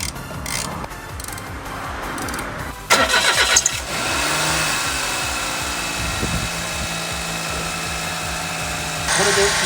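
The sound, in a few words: Suzuki K6A engine starting and idling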